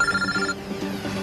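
A mobile phone rings inside a moving car during a driving test, a short bright electronic ring that cuts off after about half a second, leaving low cabin murmur.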